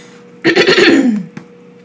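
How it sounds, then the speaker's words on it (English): A single loud, rough throat clearing close to the listener, lasting under a second before fading out. "I had to clear my throat there"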